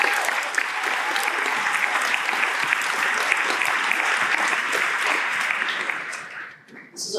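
A large audience applauds at a school class day ceremony honoring metal fabrication and welding students, a dense, steady wash of clapping that holds for about six seconds before tapering off near the end.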